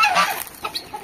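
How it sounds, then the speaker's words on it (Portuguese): A rooster clucks near and fairly loud around a duck, giving a short burst of throaty farmyard calls with no talking. "o galo tava cruzando a pata ali"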